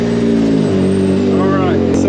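A Can-Am Maverick R fitted with an RPM exhaust and E-valve idles loud and close with a deep, steady rumbling drone, while a person talks over it.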